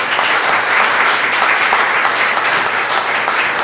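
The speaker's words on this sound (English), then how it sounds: "let's have a round of applause for our panelists." An audience applauds panelists at an affordable housing symposium, producing a loud, even, sustained burst of many hands clapping nearby.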